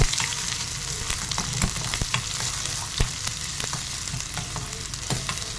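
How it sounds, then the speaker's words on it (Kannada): Loud, continuous sizzle of onions frying in a pan of tempering for sambar, with crackles and occasional stirring scrapes throughout. "ಒಂದು ಸ್ವಲ್ಪ ಈರುಳ್ಳಿ ಹಾಕೋತಾ ಇದ್ದೀನಿ ನೀಟಾಗಿ ಫ್ರೈ ಮಾಡ್ಕೋತಾ ಇದ್ದೀನಿ"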